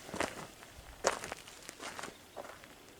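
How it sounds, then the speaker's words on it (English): Footsteps crunch across the forest floor in a cleared patch of woods, several irregular steps fairly close with rustling between them and no talking. "I could swear I just heard like footsteps."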